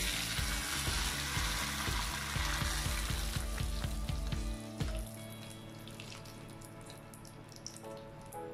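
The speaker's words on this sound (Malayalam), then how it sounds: "ഇനി നമുക്ക് ഇതിൻ്റെ മീതിലേക്ക് കടുകും മുളകും കറിവേപ്പിലയും താളിച്ചൊഴിക്കാം" Mustard seeds, dried chilies and curry leaves spatter and sizzle in hot tempering oil for a Kerala pachadi, a loud, dense close-up crackle that fills the clip and eases slightly toward the end.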